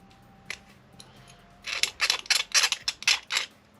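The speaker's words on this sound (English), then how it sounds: "And use my scalpel" A scalpel trims flash from plastic model kit parts, several crisp close-up scraping cuts in a quick uneven run after a few isolated ticks, loud against a quiet room.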